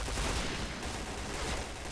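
Sustained automatic fire from a P90 submachine gun in the Point Blank shooter game, a dense unbroken burst that empties a 30-round magazine, loud and close with no talk over it.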